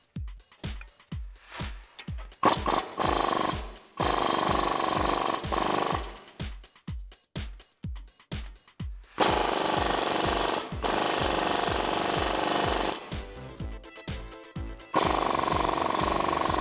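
Power tool ratcheting 14mm bolts on a brake caliper during a leveling kit install on a 2004-2014 Ford F150, with loud rapid impact bursts starting and stopping, then long sustained runs, close up.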